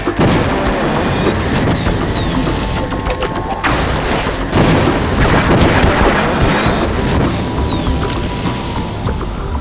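Gauss gun fire for Gauss jumps in Half-Life, loud booming energy blasts and crashing impacts in a dense, continuous barrage with whining electronic sweeps layered over heavy rumble.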